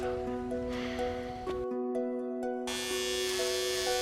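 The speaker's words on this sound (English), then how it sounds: "So just help me shave my hair." An electric razor shaves hair off a head with a close, steady buzzing hum that briefly cuts out partway through.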